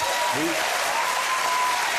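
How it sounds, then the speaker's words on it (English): A talk-show studio audience breaks into a short, dense burst of applause, with a voice briefly heard over it. "There was a applause from some parts of the audience when the shirt came off then"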